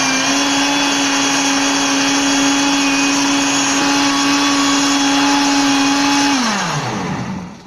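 An electric mixer beats an Ovomaltine mixture for frozen treats, a loud steady motor whine holding constant before spinning down near the end, with no speech.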